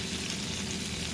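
Bacon and cheddar meatballs fry in a pan with a steady, close, even sizzle and no talking.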